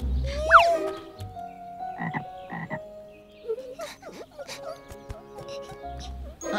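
Cartoon frogs croak in a short series of comic, tonal calls mixed with whistly sound effects and background music, with a character voice speaking briefly over them.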